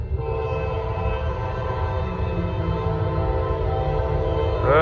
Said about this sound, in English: Let's see how big P09 is going to be tonight. It's going to be a pretty nice size train.